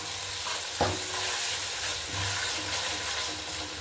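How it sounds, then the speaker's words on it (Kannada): Garlic and ginger paste fries in oil for a fish sambar, a loud close sizzle with a sharp clank of a spoon early on and repeated stirring scrapes. "ಸೊ ಇದನ್ನ ಹಾಗೆಯೇ ಸ್ವಲ್ಪ ಫ್ರೈ ಮಾಡ್ಕೊಳ್ಳೋಣ"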